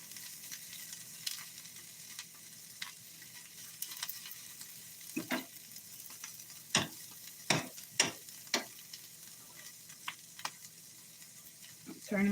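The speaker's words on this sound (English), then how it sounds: "Saute that up." Frozen vegetables sauté in butter with garlic powder, giving a soft, steady sizzle with light stirring clicks and scrapes, moderately quiet and close, with no talking over it.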